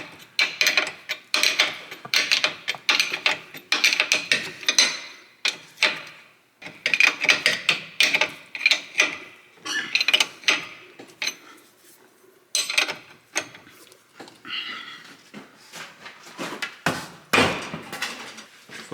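A wrench tightens the nut on a Volvo S40/V50/C30/C70 control arm, giving a string of close metallic clanks and knocks in irregular bursts with short pauses between, without talk.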